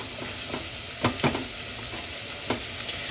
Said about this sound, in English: I'm warming up the salmon on one side and the collie mash on the other.